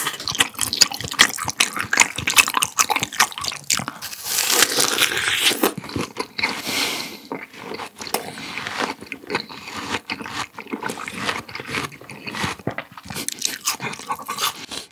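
Close, wet chewing and crunching of thick raw beef brisket yukhoe wrapped with pear, with sticky bites and smacking sounds repeating steadily, no talking.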